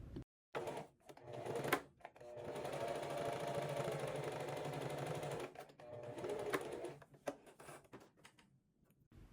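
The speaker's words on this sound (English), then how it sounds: "You're going to start by sewing together the two waistband pieces using a 1/2 inch seam allowance" A sewing machine stitches two linen waistband pieces together, running in a steady whir for a few seconds and then again in shorter bursts, separated by clicks and quiet pauses.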